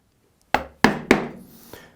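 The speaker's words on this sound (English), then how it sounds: "move it over, one good tap, and then I'm going to bring it back a little ways and pare it down." A mallet strikes a chisel cutting wooden dovetails by hand, three sharp, close knocks in quick succession, then a lighter fourth tap, with quiet between them.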